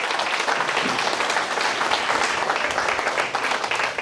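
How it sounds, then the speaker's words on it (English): Steady applause from a crowd fills the room, a continuous patter of many hands clapping at moderate loudness. "give one more round of applause for Jason"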